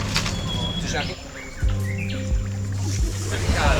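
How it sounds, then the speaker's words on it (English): Birds chirp and tweet faintly in quiet woods in Montenegro over a low, steady engine hum, with a few brief higher calls scattered throughout. "You can hear some of the birds in the background just chirping through the woods"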